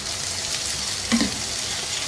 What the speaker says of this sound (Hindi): 1-2 मिनट इस प्याज को पकाएंगे